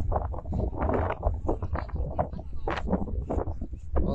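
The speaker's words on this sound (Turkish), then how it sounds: "rüzgarın sesi size bayağı bir gelecek gibi" Gusty wind buffets the microphone outdoors at a cirit horseback javelin event in Aşkale, a rumbling roar with rhythmic thuds underneath, continuous throughout.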